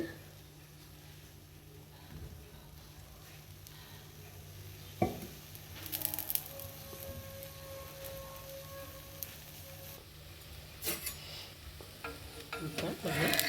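Pesarattu, a moong dal dosa, frying in oil on a pan: a low, steady sizzle runs throughout, with a few sharp clinks and scrapes of a utensil near the middle and end. No one speaks.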